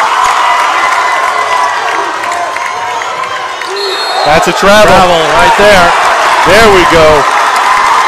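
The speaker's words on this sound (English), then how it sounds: "Crowd's getting into it now." At a high school basketball game between the Analy Tigers and Piner Prospectors, the gym crowd cheers and roars steadily, swelling louder partway through, beneath excited play-by-play commentary from a male announcer.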